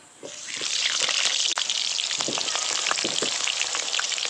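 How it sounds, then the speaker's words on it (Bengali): Cut potatoes hit hot mustard oil in a pan and break into a loud, continuous sizzle with dense crackling that stays strong to the end. "তেল গরম হয়ে গেছে এবার কেটে রাখা আলু দিয়ে দেবো"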